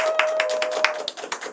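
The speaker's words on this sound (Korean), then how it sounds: "박수 주세요." Audience applause: a short burst of scattered, fairly close hand claps in an irregular patter, with a steady faint tone running underneath.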